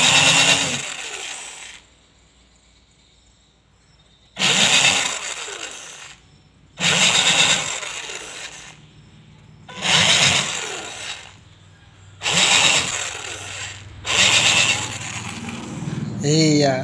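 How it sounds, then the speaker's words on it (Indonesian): A homemade drill bit bores a bolt hole through a paper gasket, heard as several loud bursts of whirring and grinding, each a couple of seconds long, separated by quieter gaps. "Sekarang kita akan coba membuat sebuah lubang baut di sebuah perpak kertas."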